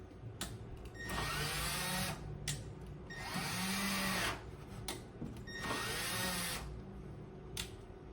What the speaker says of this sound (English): I go in and out so the screw drills in, makes a little hole.